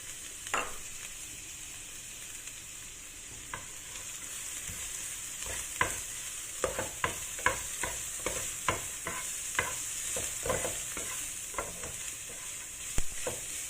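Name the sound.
ginger, garlic and scallion frying in pork oil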